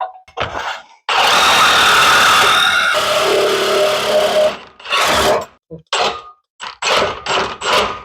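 A Sawzall reciprocating saw cuts into a Jeep transmission housing during an engine pull for an LS swap, a loud sustained buzzing burst for about two seconds, then shorter choppy bursts with gaps between them.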